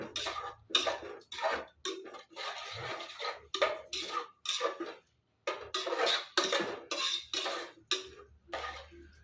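Masala kurma of gavvarakayi (cluster beans) stirred in a pan with a metal spoon, a steady run of close, loud scraping and clanking strokes in quick rhythm, with no one talking.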